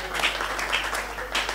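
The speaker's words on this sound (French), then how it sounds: "Est-ce qu'on peut applaudir pour Kinshasa, s'il vous plaît?" Applause from a comedy show audience for Kinshasa, a brief, continuous patter of clapping with a low steady hum beneath, moderately loud and without clear pauses.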